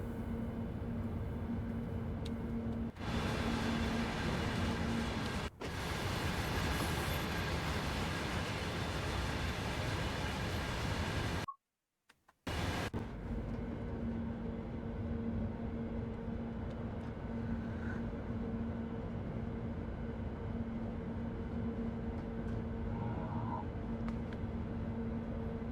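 Vectron Baureihe 193 locomotive hauling a freight train on the Frankfurt S-Bahn route in Train Sim World 5: a steady, continuous rumble and drone with a faint tonal hum, broken by a brief dropout midway.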